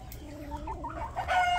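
A big fighting rooster at a poultry yard gives a short, close, clucking call with harmonic warbles, its voice rising louder toward the end over a low background rumble.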